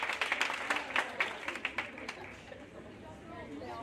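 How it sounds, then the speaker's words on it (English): A banquet audience at a college athletics awards dinner claps, loud at first and then fading over a few seconds, with voices chattering under it in a large room. "Round of applause."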